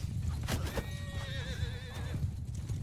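A horse whinnies with a wavering, drawn-out neigh over continuous clip-clop hoofbeats and battle noise in the medieval combat game Mount & Blade II: Bannerlord, during a mounted lance charge.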